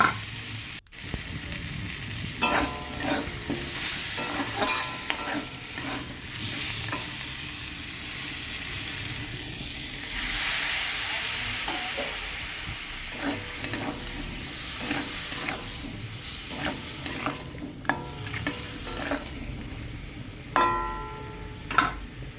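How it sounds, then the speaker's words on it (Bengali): Ground spices with ginger-cumin paste and garam masala are sautéed in a pan for a banana-flower dal dish, giving a steady frying sizzle broken by repeated spatula scrapes and stirring clicks, close and fairly loud throughout. "ভালো করে মশলাটাকে কষিয়ে নেবো"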